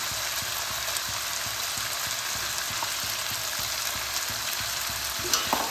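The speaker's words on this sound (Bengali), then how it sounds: "এবার আমি এর মধ্যে দিয়ে দেবো 3 চামচ পেঁয়াজ বাটা।" Onion paste sizzling steadily in hot oil with ginger-garlic masala for a goat liver and jackfruit curry, a dense, even crackle close up with faint stirring taps underneath.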